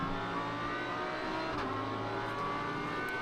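A Lamborghini Huracan GT3 Evo 2 race car engine drones at a distance during a Japan Cup race at Sugo, a steady muffled growl blended with track ambience and no clear passing peak.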